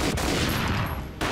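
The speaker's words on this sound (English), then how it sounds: "A gunshot boomed and she fell down in slow motion." Gunfire in the video game Max Payne: a dense, loud roar of shots fills the moment, sharp cracks sitting inside a thick booming wash with no speech.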